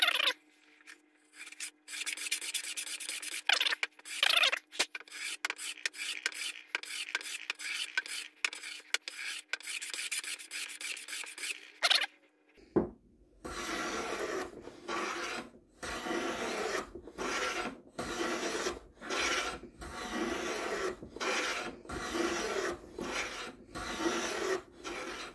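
Lie-Nielsen hand plane taking thick shavings off scrap cherry wood, a long run of rapid rasping strokes, first clipped and separated, then denser and continuous after a brief pause, close and steady with no talking.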